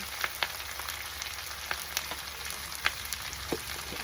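Spices frying in a pan, a soft steady sizzle with scattered crackles and light stirring clicks, quiet and close, no voices.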